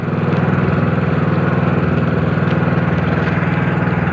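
A small motorcycle engine runs steadily on a ride toward a beach, its loud, close, even throbbing drone holding without pause and no voices heard.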